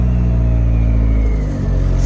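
A Honda Insight converted to TDI diesel power runs with a steady, loud, close engine rumble and dense low harmonics that hold level, then dip slightly, with no voices over it.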